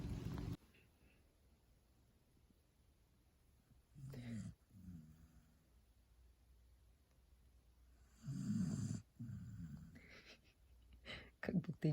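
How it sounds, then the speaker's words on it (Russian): A person sleeping indoors at night snores in two or three loud, rough bursts separated by quiet stretches, with a shorter snort near the end. "И дальше храпеть."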